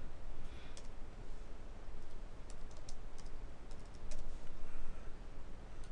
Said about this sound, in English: you can also type this and type in Adam's room